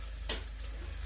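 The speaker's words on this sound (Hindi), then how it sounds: "ये राई भून गए थे, राई का तड़का लगा देते हैं।" Mustard seeds and onion in hot oil for tempering a brinjal and chana dal dish give a soft crackle with one sharp pop, close and fairly quiet.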